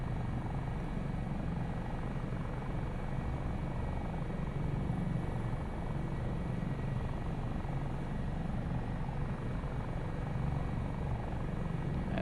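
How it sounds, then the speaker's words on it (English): A helicopter in a flight simulator game hums with a steady, even rotor and engine drone, constant and fairly quiet throughout with no talk. "it's a perfectly good helicopter in the simulator"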